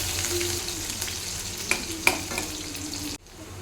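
Onions, bay leaf, cumin and mustard seeds frying in hot oil for a stuffed brinjal curry, a steady close sizzle with a few sharp crackles and pops before it cuts off abruptly.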